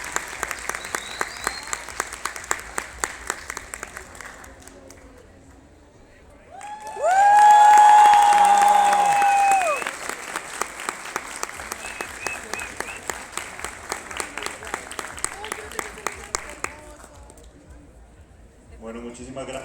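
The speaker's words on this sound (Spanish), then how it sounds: "Otro aplauso, por favor." An audience at a book fair talk applauds steadily in sustained rhythmic clapping, with a loud burst of cheering midway and clapping fading toward the end.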